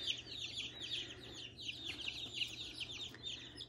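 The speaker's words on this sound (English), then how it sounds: "So there are the chicks." Many baby chicks peep continuously in a dense, high chorus, close and steady throughout, raised indoors without a heat lamp, with no voices.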